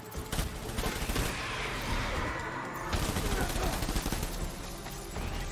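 Sustained bursts of automatic gunfire in the video game Death Stranding, dense and continuous across the whole stretch with overlapping shots, loud and close with game noise mixed in.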